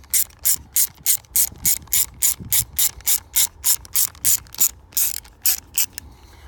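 A ratchet drives a bolt into a Yamaha R6 starter motor, with rapid, evenly spaced clicking strokes of the pawl that stay close and clear throughout with no talking.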